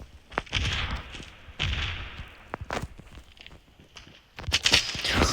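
Gunfire from a video game shooter pops in scattered bursts and single shots, punchy thuds at moderate level with a brief rapid volley near the end.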